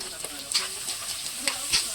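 Ginger, garlic and onion sizzle in hot oil as they are stir-fried for chicken curry, with a constant crackle and a few sharper spatters and scrapes of stirring, close and moderately loud.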